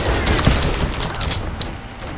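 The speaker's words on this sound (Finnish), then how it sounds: "konekiväärillä ammun, sori" Rapid machine gun fire crackles in a video game, a loud burst of sharp shots over a noisy background.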